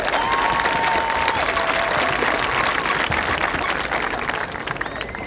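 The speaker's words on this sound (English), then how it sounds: "How about a round of applause for members of our dais?" A dense, continuous wash of applause fills a 2017 spring graduation ceremony as the audience claps for the dignitaries on the dais, loud and sustained throughout.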